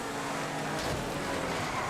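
A race car in GTA 5 driving on a race track, a steady loud engine roar with tire noise and a brief surge midway, with no talking.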